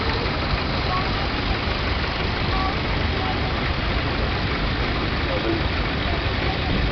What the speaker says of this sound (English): made in Germany, probably very highly engineered tractor.